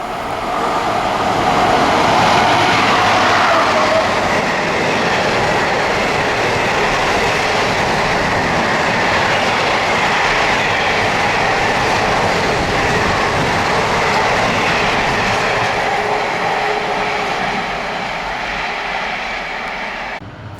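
Class 90 electric locomotives 90037 and 90024 hauling a southbound intermodal freight train at Acton Bridge, a loud, sustained roar and rumble of wheels and wagons passing close by for about twenty seconds.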